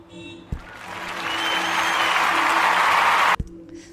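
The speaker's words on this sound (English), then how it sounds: "Thank you, I needed that applause." Applause swells in over a soft background tone, building to a full, steady clapping crowd for a few seconds before cutting off abruptly, with no voices over it.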